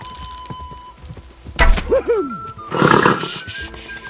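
A horse in a video game snorts and whinnies close by, a short burst followed by a louder, rougher cry, with faint background sounds and no speech.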